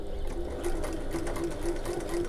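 A sewing machine whizzes steadily with green thread, closing a turning gap on a fabric sling bag, its rapid needle chatter continuous and close for the whole stretch.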